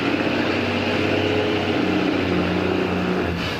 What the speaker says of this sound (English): Don't toy with the throttle, just give her all it's got.